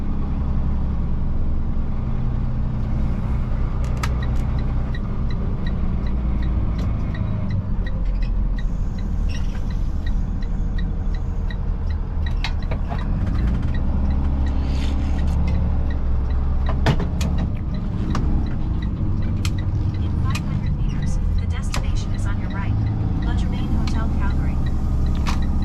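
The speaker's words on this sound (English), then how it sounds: "The beauty of driving in downtown Calgary." Car driving through downtown Calgary traffic near Center Street: a steady low engine and road rumble from inside the vehicle, with faint clicks and occasional light knocks throughout.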